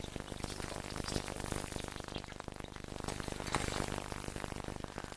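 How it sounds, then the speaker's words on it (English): Garlic butter dish sizzling fresh from a 450-degree oven, a steady close crackle and hiss of hot butter spitting in the dish, continuous and fairly loud with no talk over it. "How do you know when they're cooked? Because they sizzle."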